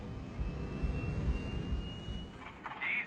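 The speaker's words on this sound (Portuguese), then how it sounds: "o som dos motores é registrado pelo gravador de voz da cabine" Airliner engines sound as a steady low drone on a cockpit voice recorder, with a faint high whine running above it and a brief brighter burst of noise near the end.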